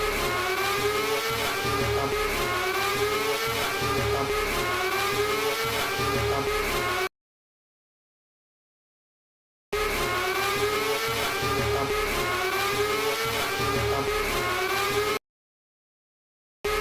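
A cartoon motorbike engine revs in loud sustained bursts, two long stretches of whining acceleration separated by a sudden silence.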